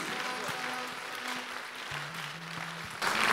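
An audience claps through a church sermon, a dense steady patter of many hands that swells louder near the end, with low sustained tones running underneath.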